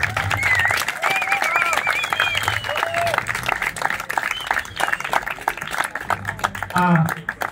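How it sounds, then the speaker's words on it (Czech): A crowd at an outdoor volleyball tournament applauds the winners with steady clapping and some cheering. A voice talks over the applause, and whistling and chirping sounds come through on top. "Tak a teď zatleskáme vítězí tady toho turnaje."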